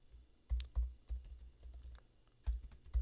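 Close, crisp keystrokes as code is typed on a computer keyboard, a handful of distinct taps in uneven clusters over a quiet background.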